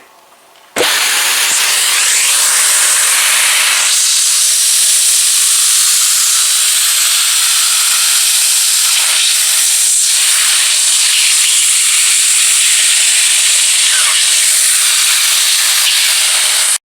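A loud, steady whooshing roar of a Vax Air Steerable U88-AM-Te upright vacuum cleaner starts abruptly and runs continuously, with a faint whine under the broadband hiss.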